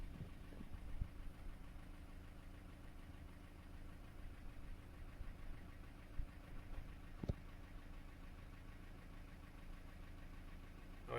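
A Ford Transit with the 2.4 TDCi diesel engine idling, a low steady rumble with faint mechanical ticking and a couple of small clicks, fairly quiet and unbroken throughout.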